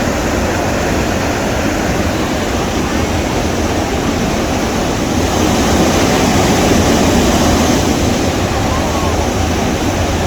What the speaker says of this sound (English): You can clearly hear the water gushing through the gorge.